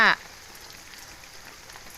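A garden sprinkler runs gently over an earthen field-crab pond to mimic rain, producing a soft, steady hiss like light rainfall, briefly preceded by a short bit of a voice.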